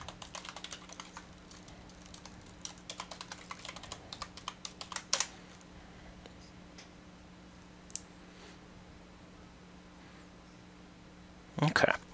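Someone enters a username and password on a computer keyboard, giving bursts of quick key clicks over the first five seconds, then near silence with a low steady hum and a final cluster of clicks at the end.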